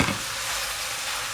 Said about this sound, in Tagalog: Ako ginisa ko yung ating pinaka-pasta.